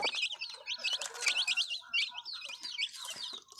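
Chicks and chickens of a crested pure breed kept behind a house, giving dense, overlapping high chirps and peeps that continue without a break, fairly close, with no one talking.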